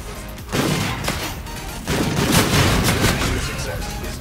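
Semi-automatic gunfire in Call of Duty: Infinite Warfare plays as a dense, sustained clatter of overlapping shots and booms that swells again partway through.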